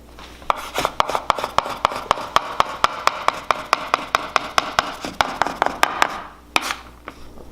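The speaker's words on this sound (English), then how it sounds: "I'm just gonna take it and I'm gonna make little dices so it melts faster." A knife dices slices of Swiss cheese on a cutting board: a rapid, even run of about two dozen crisp taps, close and clear, then a few slower final strikes with no one speaking.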